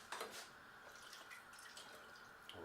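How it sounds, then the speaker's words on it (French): Snails being drained and rinsed under running water from a tap, a steady close splash and trickle with a few brighter drips, lasting the whole moment with no talking. "J'égoutte les escargots et je les rince."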